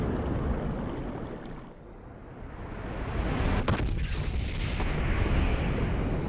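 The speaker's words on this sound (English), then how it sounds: "2 bullets crushing a soda can in 3, 2, 1." Two colliding bullets crush a soda can, set against a loud, roaring burst of noise that swells and rumbles for several seconds, with a sharp crack partway through. No speech.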